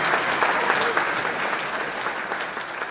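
Audience applause at a film event in Singapore, a dense, steady clapping crowd filling the whole stretch, loud and sustained without any talk over it.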